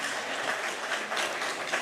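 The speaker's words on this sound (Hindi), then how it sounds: "पर जोरदार तालियां" Steady applause from an audience at a government event in Uttarakhand after a ceremonial lamp lighting, a dense continuous wash of clapping at moderate level with no voices.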